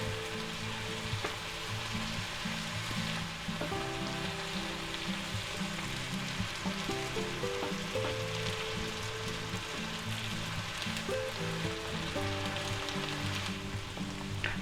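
Ham frying in a pan for a Southwestern-style cheese omelet sizzles steadily and evenly throughout, with light stirring and background music playing underneath.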